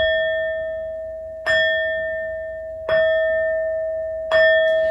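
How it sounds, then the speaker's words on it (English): A bell rings clearly at the opening of a tarot reading, struck in slow evenly spaced strokes, each a bright sustained tone that fades until the next strike, with nothing else heard. "These next four bell sounds are to align us and to bless your reading."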